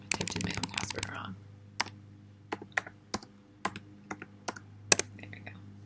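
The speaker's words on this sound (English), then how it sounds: "I typed in my own password wrong." Someone types a password on a computer keyboard: a quick burst of rapid key clicks, then a slower, uneven string of single taps, close and clear over a low steady hum.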